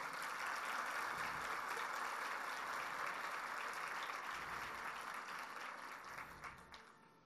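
A church congregation applauds during an evening service, a dense, steady round of clapping that holds for several seconds before thinning out and fading at the end.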